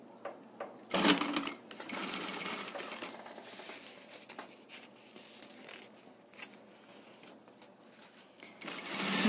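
Sewing machine stitching along both edges of bias tape folded four times, in cream thread, running in steady bursts with short pauses, close and fairly loud throughout.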